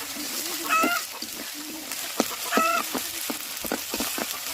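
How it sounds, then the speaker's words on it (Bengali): A chicken clucks beside a cooking pot in a home kitchen, giving two short bursts of clucks a couple of seconds apart over a low background of cooking noise. "মুরগি তো কক কক কক করছে গাইস।"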